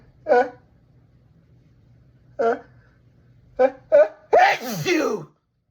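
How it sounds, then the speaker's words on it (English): A person sneezes repeatedly: separate small sneezes spaced out, then a quick pair, and finally one loud, full sneeze ending with a voiced cry. All are close up against a quiet background. "Please don't sneeze."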